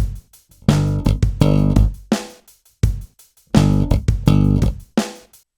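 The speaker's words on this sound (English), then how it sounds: "then we slap another low G, followed by a left hand slap, and we do that twice." Slap bass guitar hitting a low G then a left-hand slap, the figure played twice: booming thumb-slapped notes with buzzy sustain followed by clicky muted hits, close and loud.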